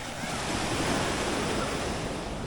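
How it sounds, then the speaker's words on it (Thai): Waves wash continuously onto Chao Samran-style beach at Hat Chao Sadet, Chanthaburi, Thailand, a steady broad roar of surf mixed with wind buffeting the microphone. "บรรยากาศ ทะเล"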